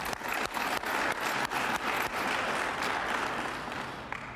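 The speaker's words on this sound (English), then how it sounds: "So I want to give everybody a round of applause just for that program right there." Audience applause at a United Way campaign kickoff event, a steady, moderately quiet patter of many hands clapping for several seconds, with a few sharp breaks in the texture.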